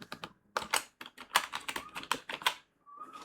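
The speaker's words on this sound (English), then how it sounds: "First of all, do type the version here." Someone types Pine Script code on a computer keyboard, close up, in quick irregular bursts of clicking keystrokes separated by short pauses, with a faint tone near the end.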